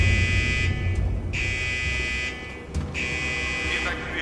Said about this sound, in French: C'est l'alarme incendie du quartier psy.